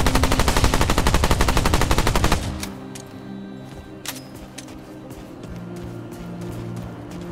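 Rapid automatic gunfire in the video game Remnant 2, a loud dense burst of evenly spaced shots lasting about two seconds, then cutting off to quieter ambience with a few faint clicks.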